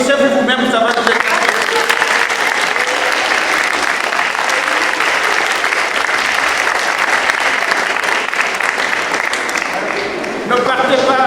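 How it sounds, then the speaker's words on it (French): A church congregation at a closing Mass for a youth event applauds the young people, a loud, steady wash of clapping that fills nearly the whole stretch before easing slightly at the end. "on va applaudir en fait des jeunes"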